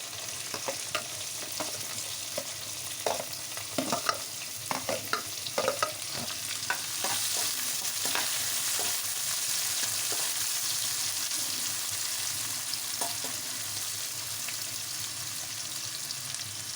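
Onions and green chillies frying in ghee in a pan, a steady soft sizzle with scattered scraping stirs early on, continuous and close.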